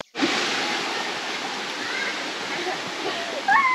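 Waterfall at Cascadas de Agua Azul in the mountains near Puerto Vallarta, a loud continuous roar of falling water starting abruptly and holding steady, with a faint voice near the end.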